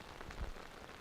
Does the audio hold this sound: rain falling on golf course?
yes